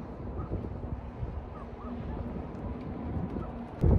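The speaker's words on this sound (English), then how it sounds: "I mean, it is really windy today." Steady, rumbling gusts of strong desert wind near Quartzsite buffet the microphone for the whole stretch, a broad low roar with no clear voices.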